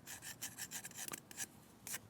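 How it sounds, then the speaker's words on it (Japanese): A Japanese wooden hand plane is rubbed against sandpaper in quiet, repeated rasping strokes, each a short scratchy pass in an uneven rhythm, close and faint with no talk. "なので、紙やすりでそれをやります。"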